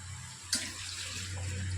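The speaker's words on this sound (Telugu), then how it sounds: "ఆ వాటర్ పోస్తున్నాం" Water splashes and streams steadily into a cooking pot of mutton, a continuous pouring rush with a low hum underneath.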